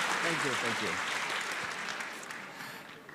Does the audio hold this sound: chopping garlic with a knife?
no